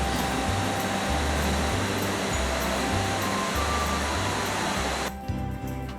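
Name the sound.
waterfall rushing water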